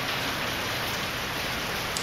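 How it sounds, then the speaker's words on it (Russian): Steady rain pouring in the Steins;Gate video game, a dense continuous hiss of a heavy downpour at even loudness throughout with no voices. "Дождь начинает идти все сильнее и сильнее. Вскоре начался ливень."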